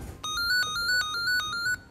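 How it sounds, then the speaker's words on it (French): A telephone rings with a repeating electronic trill, regular beeping pulses about four per second, fairly quiet and clear over low background noise. "le téléphone n'arrête pas de sonner"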